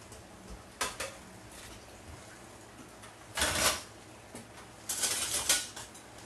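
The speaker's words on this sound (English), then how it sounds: "I'm going to add my potatoes back in here." Boiled potatoes tumbling back into a pot with melted butter and buttermilk, heard as a few separate clattering bursts of utensil and pot noise against a quiet kitchen, with no talking.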